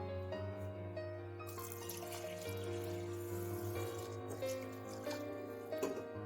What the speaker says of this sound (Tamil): நம்ம தண்ணி ஊற்றி வச்சிடலாம்.